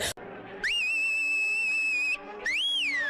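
Housemates in the Bigg Boss Tamil house whistle in celebration: two loud, sustained, high whistles, the first held steady and the second rising and falling, over faint background room noise.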